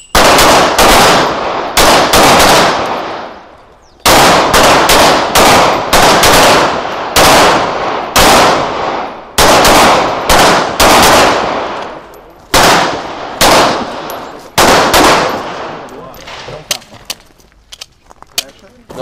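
Rapid bursts of loud gunfire during vehicle combat training, many sharp shots in quick clusters separated by brief pauses, close and harsh, thinning to scattered single shots at the end.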